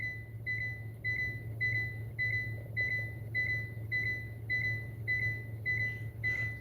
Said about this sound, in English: The vehicle's about to turn off. It's a timer on here.